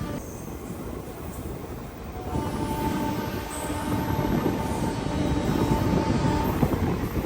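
Durg–Visakhapatnam Express running between Vizianagaram and Kottavalasa junctions, heard from on board: a steady, loud rumble of wheels and carriages with a faint squealing tone, building slightly stronger after the first couple of seconds.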